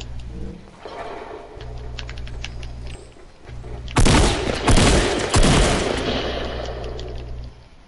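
Fortnite gunfire: after a stretch of low game background, loud rapid bursts of shots break out near the middle and keep rattling to the end.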